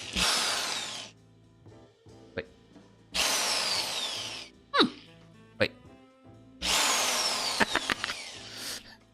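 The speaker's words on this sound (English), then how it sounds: "the drill actually draws enough power to actually dim the lights" A power drill bores holes for a caster on a table saw stand, whining loudly in three long bursts separated by pauses with clicks and knocks, and someone briefly speaks.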